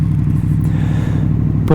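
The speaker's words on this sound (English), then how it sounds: "I wish you could hear this exhaust in person." Honda VFR800F motorcycle running an SC-Project Conic exhaust with the dB killer removed, a loud, steady low engine drone throughout, close to the microphone, with a brief spoken word near the end.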